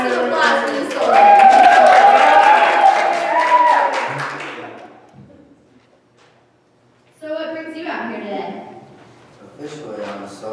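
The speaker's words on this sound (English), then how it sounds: "let's have some applause for the soldier" Audience applause and cheering for a performer playing a soldier at a church youth Sunday play, loud with a voice over it, fading away, then short bursts of clapping and talk return.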